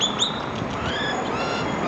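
Several birds squabble and call in quick, thin chirps and rising whistles over a steady rustling background, fairly close and without any talking.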